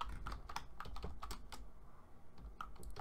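Keys clatter on a computer keyboard while a pip install command is typed into Jupyter Notebook in the Anaconda environment, a quick run of irregular taps, close and fairly quiet, with no talking.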